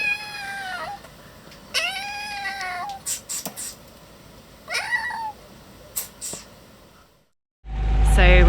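A cat on a sailboat meowing for food, a series of loud, drawn-out pleading meows at irregular intervals against quiet background noise, ending in a burst of louder sound.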